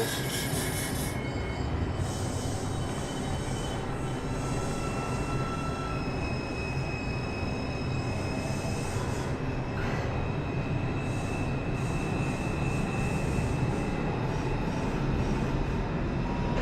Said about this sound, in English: This is a Brooklyn-bound 3 train.